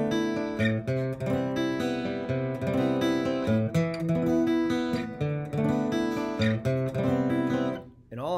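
Guitar playing the folk song Recluse with punk chords, each bass note struck first and then the remaining strings swept slowly, ringing out as a continuous, close strummed passage.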